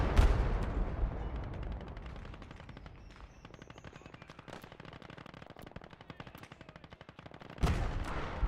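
Sustained gunfire from the World War II strategy game Gates of Hell: Ostfront, a dense rattle of rapid machine-gun bursts and scattered rifle shots with heavy booms at the start and end, continuous and loud, no talking.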